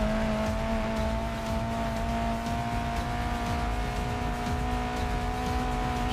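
Race car engine in the video game GRID Legends holds a steady high-revving drone with a constant pitch, loud and continuous in-car, with faint tyre noise and no talking.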